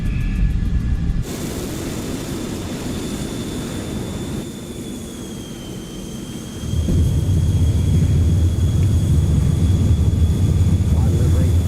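F-14 Tomcat jet in Microsoft Flight Simulator rolling for takeoff, a steady loud engine roar with a high whine that surges louder partway through, with a voice speaking over it.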